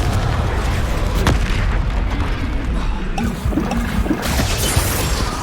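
Confringo, a fiery blasting spell in the Hogwarts Legacy video game, fired amid combat: a string of heavy booming explosions and crackling bursts over a dense, rumbling battle din, loud and close, with no voices.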